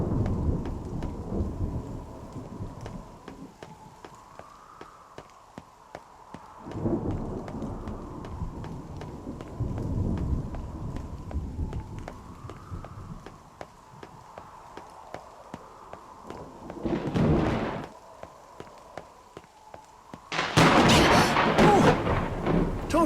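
Low rolling thunder rumbles repeatedly beneath a steady rain patter in the video game NieR Reincarnation, with a high droning tone and faint regular clicks throughout, building to a loud, crackling thunderclap near the end.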